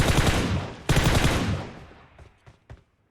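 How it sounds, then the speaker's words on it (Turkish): A rapid burst of automatic gunfire rings out in PUBG on the Livik map, a loud sustained volley that ends abruptly, then a few sharp single shots trail off in the distance. "Burada birini vurdum herhalde."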